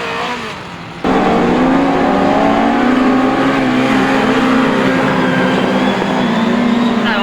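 Autograss race cars roaring around a dirt track, a loud, sustained engine drone that cuts in abruptly and holds strong with shifting pitch as the cars circle.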